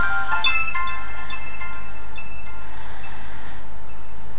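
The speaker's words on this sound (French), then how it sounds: "j'ai enfin trouvé la sonnerie" A phone ringtone plays as a bright, steady electronic melody with tinkling tones, fairly loud and alone, continuing through the clip without any talk.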